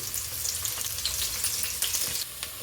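Long-sliced onions and curry leaves fry in oil in a pan, a steady close sizzling hiss with occasional pops and light stirring scrapes, no voices.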